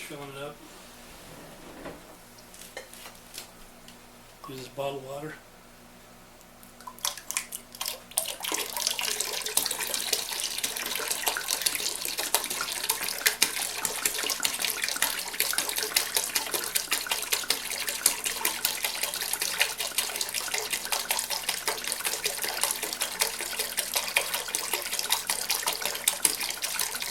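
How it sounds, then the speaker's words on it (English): Bottled water pours into a container while mojito hard iced tea is being mixed, becoming a steady, close rushing splash after a few quieter seconds with brief voice-like sounds and clinks. "Finish filling it up. Use this bottled water."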